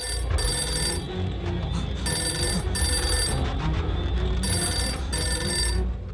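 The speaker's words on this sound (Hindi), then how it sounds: "इसकी तो फिर से फोन बज गया।" A telephone in an action movie scene rings in repeated bell bursts with short gaps between them, loud and close over a low rumbling background.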